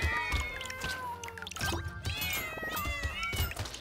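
Cartoonish cat meows serve as weapon sounds in the video game Brotato, rapid overlapping mews firing in quick succession over thumping hit noises, dense and busy with no pauses.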